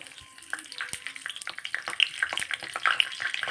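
Cinnamon sticks and cloves sizzling and frying in hot ghee in a pan, a steady close crackle with scattered sharp pops, for hotel-style vermicelli payasam.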